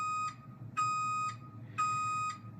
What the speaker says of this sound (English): That sounds like a Caterpillar dump truck backing up.